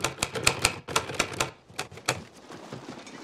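A typewriter in a Band of Brothers episode clatters with a rapid, uneven run of sharp keystrikes. The strikes are close and distinct at first, then thin out and fade into quieter taps.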